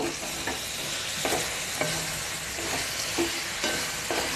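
Bengali-style desi chicken curry with garam masala being stirred in a pan, with steady scraping sweeps every half second or so over a constant close sizzle and no voices.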